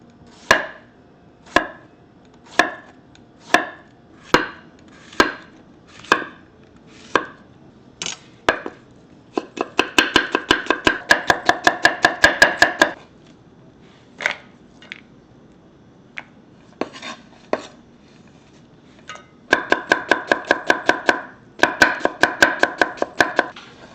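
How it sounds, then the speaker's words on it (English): Knife chopping zucchini into matchsticks on a board: slow single cuts at first, then fast rhythmic runs of chopping, close and crisp without talk. "Wow, one zucchini make that really lots of matchsticks, a lot."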